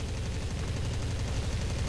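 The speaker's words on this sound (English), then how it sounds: "Your machine guns and cannons are perfect for hitting light targets." Machine guns and cannons firing from an aircraft in the War Thunder flight game, a dense, continuous rattle of rapid automatic shots that stays loud and steady throughout.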